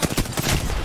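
Rapid gunfire in the battle royale game Apex Legends, a quick dense burst of shots lasting under a second.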